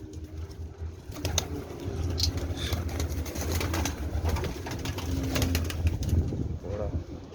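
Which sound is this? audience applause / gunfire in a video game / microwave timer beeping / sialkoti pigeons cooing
sialkoti pigeons cooing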